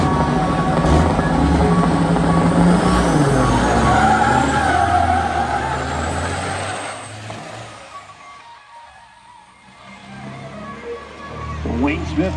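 A big rig diesel truck doing a burnout on a racetrack roars loud and steady, its engine noise dipping in the middle before surging back, under crowd noise and talk.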